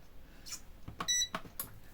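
A kitchen multicooker set to a plain meat stewing program beeps once with a short electronic tone as cooking starts, surrounded by faint clicks and handling noises close by.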